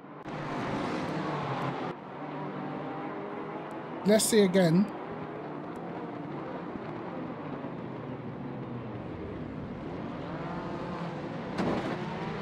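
Race car engines droning at Hungaroring in a racing video game, a steady sustained engine hum that runs throughout, with someone talking over it and a brief sharp burst in the middle.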